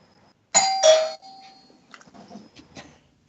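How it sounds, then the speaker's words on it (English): A bell rings twice in quick succession, two bright chimes that fade out, followed by faint scattered clinks and rustles. "I guess we're ringing the bell."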